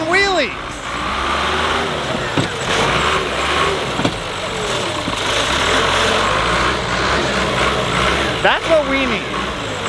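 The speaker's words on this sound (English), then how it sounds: "So we ended up in the woods with a giant tractor" A giant tractor's engine roaring as it does wheelies in the woods, a loud, close, churning drone with clanks and surges, heard under people talking and shouting.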